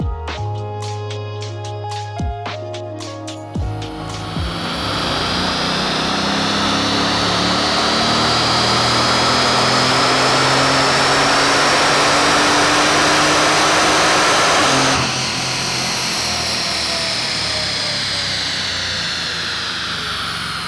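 A Bugatti Veyron engine on a dyno pass, rising from a rough loud growl into a sustained rushing roar that climbs steadily in pitch with whining harmonics, easing slightly after a gear change near the end.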